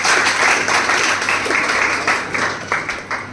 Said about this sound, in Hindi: एक बार जोरदार तालियां हो जाए ऊपर के लिए